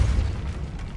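Repulsor spell blast in Hogwarts Legacy on PS5: a single dull, rumbling low boom that fills the whole second and fades only slightly, with no voices over it.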